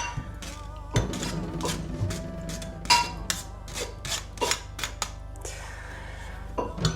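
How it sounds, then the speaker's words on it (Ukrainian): Cake ingredients being pushed through a metal sieve in a home kitchen while baking a Christmas cake, giving a run of scraping, tapping clinks and rubbing sounds at close range, with brief voices in the background. "вологу нам додавати не треба, тому я зараз через сито пропущу"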